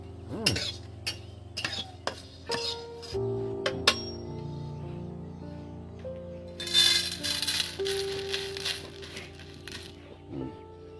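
Dry-roasted spices for chana chaat tipped out of a pan, giving a run of light clinks, rattles and a scattered crackle of seeds against metal, close and fairly quiet, with a brief brighter sizzle-like burst midway.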